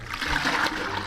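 Birch sap pours steadily into a bucket outdoors, a continuous close splashing, gurgling stream of liquid heard on its own.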